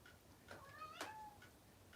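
A cat gives a single close, clear meow with a rising then falling tone, preceded and followed by faint soft sounds in a quiet room.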